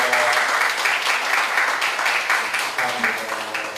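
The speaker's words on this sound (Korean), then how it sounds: "다 같이 박수로 환영해 주시기 바랍니다" A church congregation at a Baptist pastor's inauguration ceremony applauds in a dense, continuous round of clapping that fills the room from start to end.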